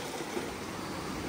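Rough sea waves on the Balochistan coast near Jiwani make a faint, steady wash of surf with wind, with no voices.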